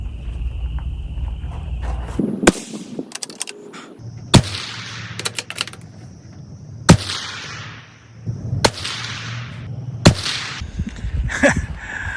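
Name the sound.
rimfire rifle shots fired at 200 yards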